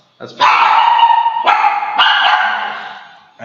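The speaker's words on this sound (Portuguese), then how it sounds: "Eu sei que tá difícil o latido dos cachorros" Dogs bark and yip loudly nearby in rapid, overlapping bursts that fade slightly at the end.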